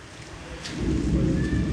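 Sudden rain and a thunderstorm break out, a low rumbling roar of downpour and thunder swelling quickly from quiet to loud and holding steady, with no voices.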